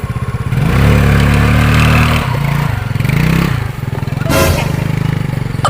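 A motorcycle engine is started and runs close by, a loud rough mid-pitched drone that rises and dips with throttle blips and rattling clatter, pausing briefly before catching again.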